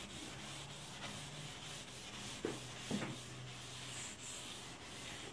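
Soft, continuous rubbing of steel wool scrubbing over an old wooden coffee table, fairly quiet and even, with a couple of slightly louder strokes.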